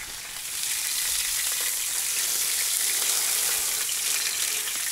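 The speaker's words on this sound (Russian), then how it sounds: "А вот и мяско жарится, начинает шипить все" Meat fries in a pan, giving a steady, dense sizzle that swells after the first half second and then holds evenly and close, with no voices over it.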